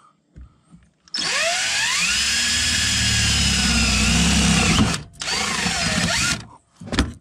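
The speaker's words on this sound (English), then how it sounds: "But we're just gonna drill it right through." A power drill bores through metal on a Volkswagen MK4 Jetta TDI during a trailer hitch install, a loud close whine running steadily for about four seconds, briefly stopping, then resuming before short bursts at the end.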